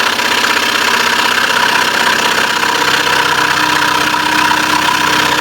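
A scroll saw runs steadily while cutting into a workpiece, giving a loud, continuous buzzing drone with a fast mechanical vibration and no pauses.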